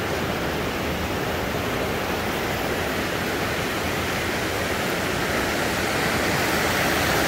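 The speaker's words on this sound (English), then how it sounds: "Sanderson Brook Falls." Water pours steadily down Sanderson Brook Falls in Chester, heard from the base beside small pools as a loud, unbroken broadband rush that stays constant throughout with no voices.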